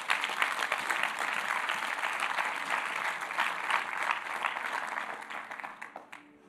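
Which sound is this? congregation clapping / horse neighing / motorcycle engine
congregation clapping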